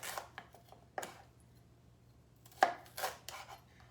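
Knife chopping two bell peppers on a cutting board: a few sharp, separate cuts with quiet gaps between, then a quicker cluster of strokes near the end, close and fairly soft.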